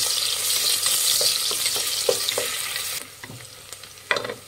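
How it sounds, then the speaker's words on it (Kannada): Sliced onion sizzles in a pan under a bright, continuous hiss, with a few soft stirring clicks. The sizzle drops in level partway through and is followed by a sharp scrape. "ಫ್ರೆಂಡ್ಸ್, ಈರುಳ್ಳಿ ಒಂದು ಸ್ವಲ್ಪ ಫ್ರೈ ಮಾಡಬೇಕು"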